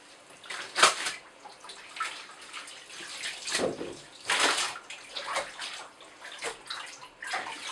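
Cloth diapers being swished and worked by hand in bathtub water, with irregular splashes and sloshing bursts at close range and no voices.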